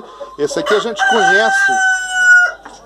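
A Rhode Island rooster crows loudly and close by, a long drawn-out call with a clucking start, while someone speaks briefly over the beginning.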